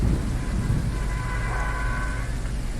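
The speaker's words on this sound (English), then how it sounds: "That thunder and lightning was really loud" Loud thunder rumbles through a storm in the ghost-hunting game Phasmophobia, a dense, steady roar with heavy rain-like hiss throughout.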